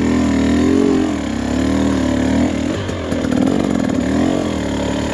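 A Husqvarna TE300 two-stroke dirt bike engine lugs at low revs with a loud, close, raspy, pulsing drone that swells and dips steadily throughout, with no talking.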